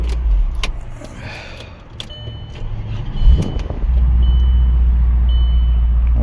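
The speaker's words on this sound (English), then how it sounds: "I want to shut the car off and restart it." A 2003 Audi RS6 with a 4.2-litre turbo engine, running on a jump pack, shuts off and restarts: a low idle rumble drops away briefly, a short cranking burst follows, then the engine settles back into a steady, louder idle close by.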